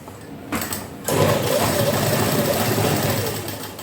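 After a quiet moment, a sewing machine starts up and runs steadily, stitching a salwar cuff with a fast, even mechanical whirr that continues to the end.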